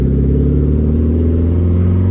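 Lotus Elan restomod on carburettors pulling away in second gear, a steady close engine drone with strong low harmonics and a slight rising rev, no talking.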